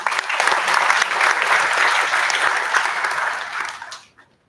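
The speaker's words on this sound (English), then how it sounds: "Let's welcome them with a huge round of applause." Enthusiastic audience applause at an academic IEEE conference on intelligent systems, dense sustained clapping for about four seconds before quickly fading to silence.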